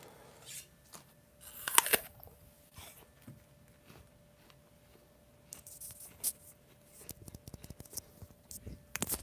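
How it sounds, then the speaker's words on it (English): Crunchy apple chewed close to a microphone: scattered loud crisp crunches in bursts, with quieter chewing between them and no talk. "Do you like the sound of an apple crunch?"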